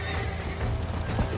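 A horse whinnies amid galloping hooves in the Western game Red Dead Redemption, the clip-clop and neigh blended with rumbling background noise in a short, busy burst.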